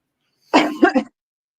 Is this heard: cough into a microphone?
yes